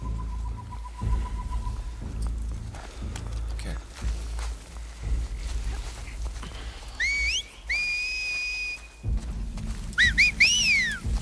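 Enemies in The Last of Us Part II signal each other with sharp two-note whistles, several calls spread over a tense stealth stretch with footsteps and low ambient rumble in between.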